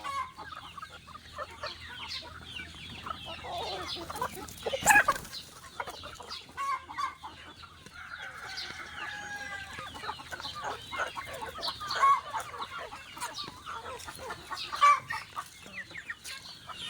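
Chickens cluck steadily at feeding time, a flock of several birds with overlapping calls and a few louder squawks standing out, close by and with no talk over them.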